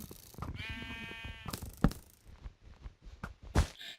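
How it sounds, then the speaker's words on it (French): Sheep bleat in a Minecraft game on the Epicube server, a clear harmonic bleat standing out over game clicks and thuds, followed by quieter scattered in-game noises. "ils m'ont lancé un mouton marron là où on voit que dalle"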